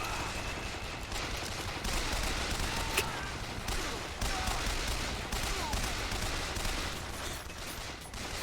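Sustained gunfire during a BioShock Infinite firefight, dense overlapping shots and bursts running steadily throughout at moderate level, with no talk over it.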